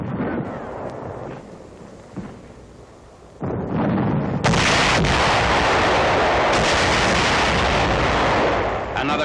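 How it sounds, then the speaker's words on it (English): Satchel charges are detonated to clear enemy caves during 1945 wartime combat, a heavy booming blast followed by a long, loud roar of rumbling explosions, with a muffled, grainy old-film quality. "Another section being cleaned out by satchel charges."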